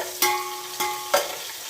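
Sliced onions go into a pan with chicken, ginger and garlic for a chicken biryani and fry with a soft sizzle, punctuated by three sharp stirring scrapes at close range, with no voices.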